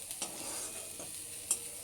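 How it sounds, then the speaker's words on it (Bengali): Vegetables and potatoes being stirred and fried in a pan, a soft continuous sizzle broken by a few light scraping strokes, close but quiet with no voices. "যে সব এখন নাড়াচাড়া করে ভাজা ভাজা করছি, যতক্ষণ না সেদ্ধ হবে আলুগুলো ততক্ষণ পর্যন্ত আমাদেরকে এটা নাড়াচাড়া করেই যেতে হবে।"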